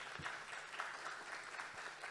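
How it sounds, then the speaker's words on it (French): Conference audience at a policy forum in Morocco applauding, a faint, thin patter of scattered clapping heard from a distance in a large hall. "On peut applaudir."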